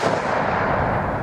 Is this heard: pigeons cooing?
no